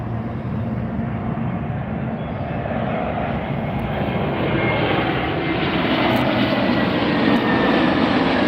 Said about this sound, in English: Nothing like the roar of those jet engines up close